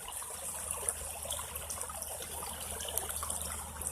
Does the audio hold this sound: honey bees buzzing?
no